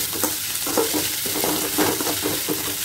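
Onions and spring onions fry in a pan, a steady sizzle broken by rhythmic scraping strokes as they are stirred, close and fairly loud.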